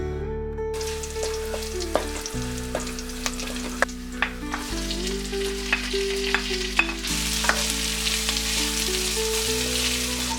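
Pineapple pieces sizzle steadily in a hot pan while a spoon scrapes and stirs them in sharp, irregular clicks, a continuous close frying hiss with no talking.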